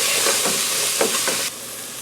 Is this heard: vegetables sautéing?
yes